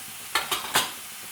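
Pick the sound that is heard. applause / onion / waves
onion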